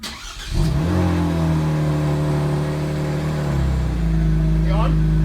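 A 2019 Kia Stinger GT2 engine idles and revs close by in a garage, a steady mid-pitched drone that swells then settles, with people talking over it.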